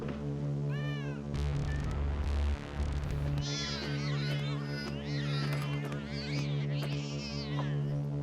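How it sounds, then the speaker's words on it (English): A cartoon cat in the video game Ankh, swung by its tail and thrown, gives a run of loud, rising and falling meows and yowls over a steady musical hum. "What kind of psychopath decides that swinging a cat around by its tail and throwing it is funny?"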